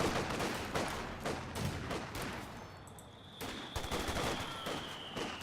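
Dense battlefield gunfire in Company of Heroes 2, lieutenants and infantry squads trading rapid rifle and machine-gun bursts, a steady rattle of overlapping shots throughout with a faint whine entering midway.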